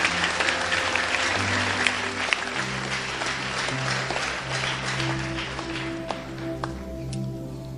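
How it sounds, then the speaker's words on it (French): Congregation applauding at a Haitian prayer service, steady dense clapping filling the whole stretch with sustained musical tones underneath. "je demande pour applaudir bon Dieu pour l'initiative"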